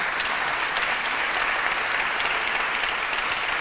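A conference audience claps loudly to welcome a guest speaker joining an onstage discussion: a dense, sustained roar of many hands clapping, uniform and unbroken throughout.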